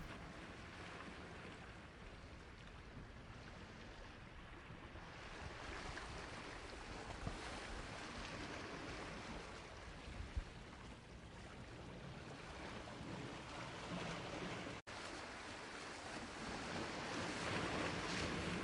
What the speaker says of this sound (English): The waves lap gently at your feet, their cool touch refreshing and grounding.